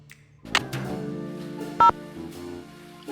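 Phone dialing in the Nancy Drew game The Haunted Carousel, a receiver clunk followed by a dial tone and a single crisp keypad beep, heard close and clean with no talk.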